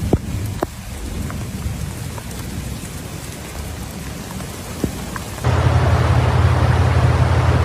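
Heavy rain during a Texas flood, with a steady downpour, a few sharp cracks and distant thunder rumbling, then the rain roaring louder and closer partway through.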